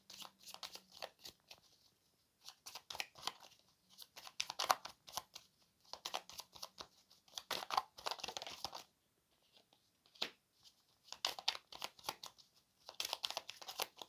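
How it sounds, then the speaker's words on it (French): Tarot cards are drawn and handled from a deck, giving repeated bursts of papery slides, flicks and crinkles in irregular clusters with short pauses between, close and fairly quiet. "Donc on va tirer 3 cartes."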